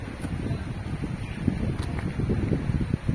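Steady low rumble of wind buffeting outdoors, gusting unevenly throughout, with no voices.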